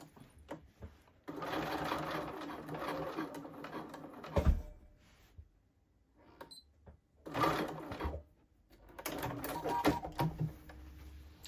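Sewing machine stitching the lining of a blazer pocket in bursts of rapid mechanical whirring, with pauses between runs where the machine stops and a brief thump is heard.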